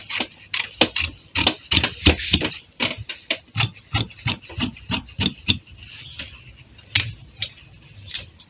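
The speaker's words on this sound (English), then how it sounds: "So you place your scissors and you cut it out." Repeated crisp snipping and rasping of scissors cutting through fabric, a steady series of sharp short strokes close by, with no talking.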